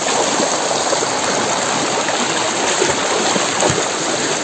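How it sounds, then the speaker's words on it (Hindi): A homemade artificial waterfall pours water in a steady, dense rush, close and loud throughout, with no voices. "नेचुरल झरना तो नहीं है, आर्टिफिशियल झरना है, हमने बनाया है खुद"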